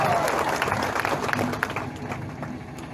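A crowd claps at a Congress political rally in Mungeli, Chhattisgarh, during a Navjot Singh Sidhu speech: a dense, continuous patter of applause that is fairly loud and fades slightly toward the end.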